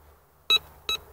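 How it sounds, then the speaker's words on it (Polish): Two clear, separate electronic beeps from a Nel Tornado metal detector passing over a 5 grosze coin, each a short, bright tone, close and loud, with quiet background between them. "Bardzo ładny, czytelny sygnał."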